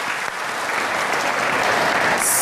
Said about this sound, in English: please give another round of applause for our young generation and their wonderful performance